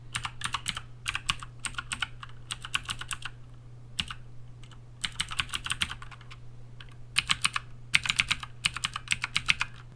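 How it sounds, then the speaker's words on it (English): Typing on a mechanical computer keyboard, captured through a budget USB microphone: bursts of quick clicky keystrokes come in clusters with brief pauses, over a low constant electrical hum. "I have a mechanical keyboard which is a little bit louder than a regular keyboard"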